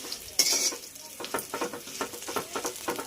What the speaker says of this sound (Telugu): ఇదిగోండి మంచిగా ఫ్రై అయినాయి చూడండి